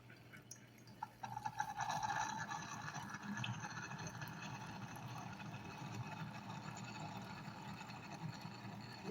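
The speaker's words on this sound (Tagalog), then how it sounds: "Ayan, another tubig na naman." Water is poured into a new bread machine while low-carb peanut butter bread is being made: a quiet, steady trickle and splashing over a faint machine hum, with a brief brighter pour early on.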